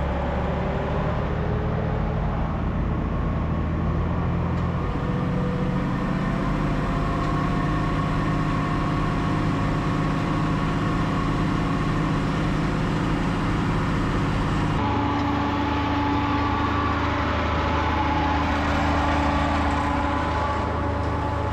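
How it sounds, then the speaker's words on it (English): A tractor-pulled dragline manure spreading rig pulls in at a farm, its diesel engine droning steadily and loudly close by for about twenty seconds, with a shift in tone partway through. "Yep, there comes the rig. He's pulling in now."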